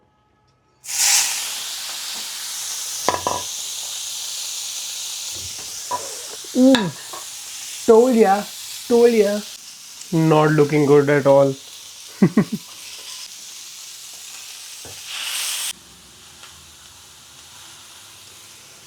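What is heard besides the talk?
chicken frying and sizzling in a pan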